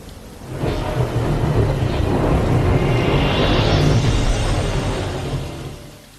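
A thunderstorm in the Final Fantasy XV video game: a deep, loud rumble swells in within the first second, rolls on steadily with a brighter crackling wash, then fades toward the end, with no voices.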